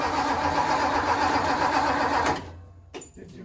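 A 1957 Ford Thunderbird's classic V8 cranks and runs loud and steady for about two seconds, then cuts out abruptly, leaving a brief sputter and quiet mechanical noises after.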